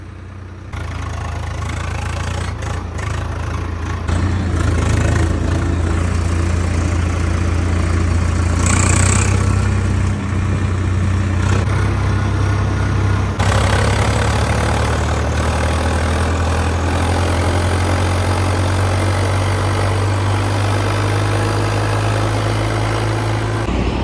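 A Swaraj tractor engine labors under load while pulling a heavily loaded trolley in top gear, giving a steady, loud low rumble that holds throughout with a brief higher whine midway.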